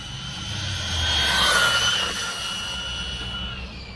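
A Hunter Racing UD2301B brushless 1/12-scale RC buggy whines steadily on throttle, a high electric motor tone swelling to a peak mid-run and then easing back, heard alone without talk.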